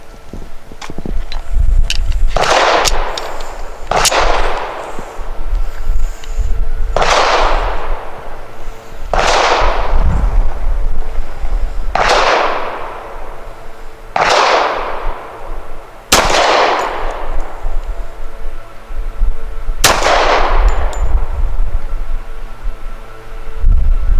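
A Rock Island Ultra CCO pistol fires Winchester Defender 230 grain bonded jacketed hollow point rounds: eight sharp, loud shots spaced irregularly a few seconds apart, each followed by a brief echoing decay.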